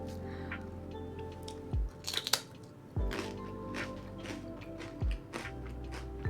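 Everything-bagel-flavoured rice crackers are bitten and chewed up close, giving several crisp crunches spaced about a second apart over a quiet room background.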